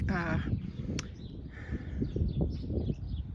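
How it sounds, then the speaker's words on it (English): A crow caws once, short and nearby, above a flower garden, with a person talking under steady outdoor background noise. "there's always a bird sitting up there when I do this."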